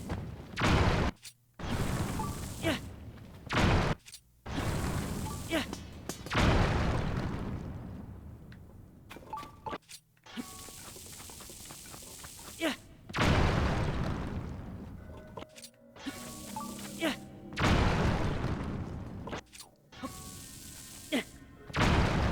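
Bombs detonating in Zelda: Tears of the Kingdom, a string of loud booming bursts spread across the stretch with short gaps between them, some overlapping, and other game sounds filling in around them.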